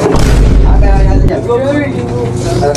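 Heavy, booming gunfire from the video game Crossfire sounds loud and continuous at first, then eases into a rumbling mix as a voice cries out over it.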